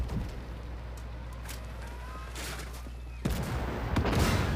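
Tank cannon fire in the game Armored Warfare: a steady engine rumble with scattered distant shots, then a sudden loud blast near the end followed by rolling, echoing booms.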